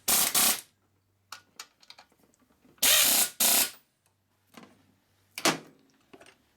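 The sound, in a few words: tightening bolts on a 1965 Harley Panhead engine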